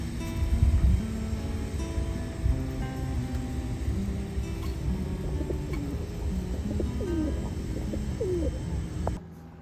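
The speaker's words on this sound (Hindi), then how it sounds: "ये देखो यहाँ पर कितने सारे कबूतर बैठे हुए हैं," Soft coos from pigeons sitting in the snow in New York repeat through a steady outdoor background hum, with a few brief chirps mixed in and no one speaking.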